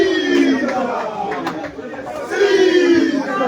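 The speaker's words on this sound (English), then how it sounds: "They are shouting the famous Caesar slogan." A pub crowd in Nairobi, Kenya chants and shouts a player's slogan during a high-stakes pool match, loud, dense and continuous, with voices rising and falling in waves of cheering.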